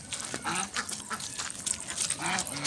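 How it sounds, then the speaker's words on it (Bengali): Ducks quacking on a street while a toddler plays among them, a busy cluster of short honking quacks at close range over faint background noise, with no talking. "দেখো তোজো হাঁসের সঙ্গে খেলা করছে।"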